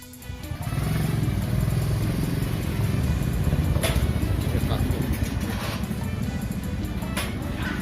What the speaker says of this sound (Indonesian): Kenapa lagi nih motor? Mogok lagi.